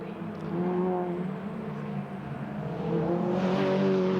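Mini Challenge race cars at Rockingham, engines droning steadily with harmonic revving as they pack through the first turn, one car swelling louder near the end.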